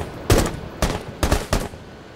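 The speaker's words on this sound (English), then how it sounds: "gunshots." Four sharp, punchy video game gunshots in quick succession, each a loud crack with a short decay, close and alone, heard through a gaming headset.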